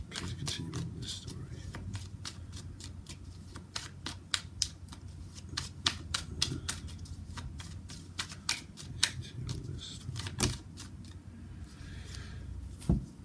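Tarot cards are shuffled and dealt out in quiet, close rapid flicks and soft taps, coming in irregular clusters over a faint background hum.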